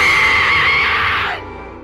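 A woman lets out a loud, sustained high-pitched scream that holds steady, then falls in pitch and trails off.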